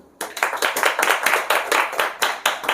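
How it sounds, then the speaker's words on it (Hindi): An audience at a spiritual class claps in unison, a loud, regular rhythm of about a dozen sharp, evenly spaced claps close by with no talking over it. "ताली तो बजाओ।"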